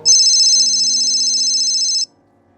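A loud electronic phone ring, a steady warbling tone that holds for about two seconds and then cuts off abruptly, heard alone with no voices.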